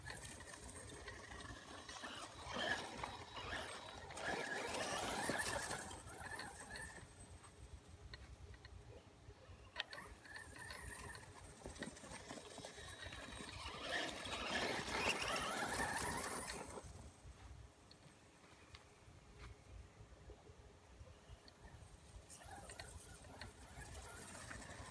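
Steel spur gear drivetrain of a Redcat Blackout XTE Pro RC car running on 2S, a steady mechanical gear whine and ratcheting hum that swells and fades over about twenty-five seconds, with no talking.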